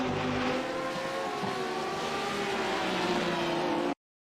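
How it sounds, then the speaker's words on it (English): A GT3 race car in a sim racing game rounds a corner at the Long Beach circuit, its engine a loud, steady, buzzing drone that cuts off abruptly. "So he's coming way too hot, which, to be honest, easy enough done at that particular corner. Yep, locks it up nicely."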